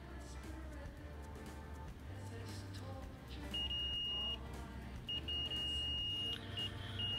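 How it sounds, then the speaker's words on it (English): A multimeter continuity tester beeps twice on a shorted microSD card, each high electronic beep held for about a second, over a low steady hum and faint background noise. "So it beeps, that means it's shorted."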